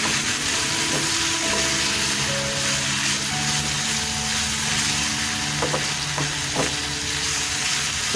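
Chicken fries in a pan for a quick sandwich filling, making a loud, steady sizzle throughout with a few faint clinks of a utensil near the end and no voices.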